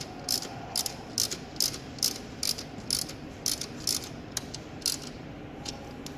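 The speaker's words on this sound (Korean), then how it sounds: "옆에 12mm 고정 노트를 확실하게 조여 주시고요" A ratchet tightens the 12mm fixing nut on the alternator of a Hyundai Avante AD: about a dozen sharp, evenly spaced clicking bursts, close and clear, over a faint background hum.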